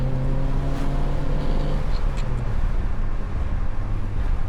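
A Toyota AE86 Sprinter Trueno on the move, its engine droning with steady low harmonics under road and cabin rattle, close and continuous without a pause.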